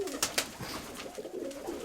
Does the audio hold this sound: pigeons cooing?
yes